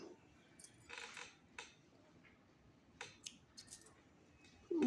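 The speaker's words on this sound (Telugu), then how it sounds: "ఇది కట్ చేసేసుకుందాము" Scissors snipping through cotton lamp wicks, a few short crisp cuts spaced apart over a quiet background, ending with a louder close rustle.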